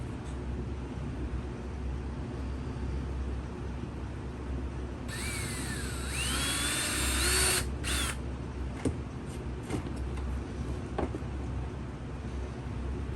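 A power drill bores holes in a zombie-themed radio Bluetooth player to fit old knobs, its rising whine lasting a few seconds over a constant background rumble.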